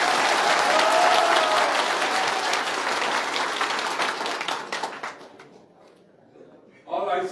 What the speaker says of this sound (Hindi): इसलिए इस सभागृह में जितने लोग बैठे हैं, एक बार जोरदार अमित भाई के लिए ताली हो जाए।